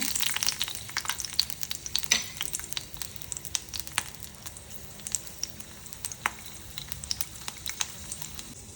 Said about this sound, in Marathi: तेल गरम झालं की 6 पाकळ्या लसणाच्या